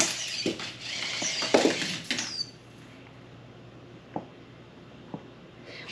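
A chopstick clicking and scraping against a bowl while stirring ingredients into an egg mixture, a quick burst of close, light taps for about two seconds, followed by quiet with a couple of isolated clicks.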